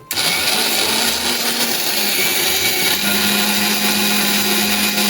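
Electric mixer grinder whirring steadily as it grinds dried flower offerings for homemade incense powder, a loud continuous motor drone with no talk.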